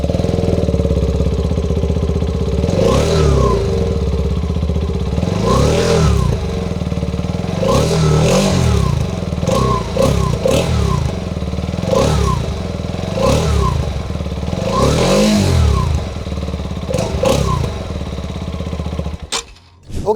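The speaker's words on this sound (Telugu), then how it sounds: "సో ఈ బైక్ ఎగ్జాస్ట్ నోట్ ఎలా ఉందో ఒకసారి చూద్దాం మనం." A TVS Apache RTX 300 adventure motorcycle revs repeatedly, its exhaust note swelling in loud bursts every couple of seconds over a steady close engine rumble, then cutting off at the end.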